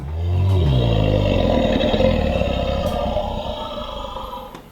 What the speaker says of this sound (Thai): มีไดโนเสาร์ด้วยครับ